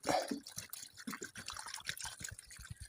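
Water trickles and splashes into a wash basin holding hand-washed clothes, close and soft, with a quick series of small drips and pours running throughout.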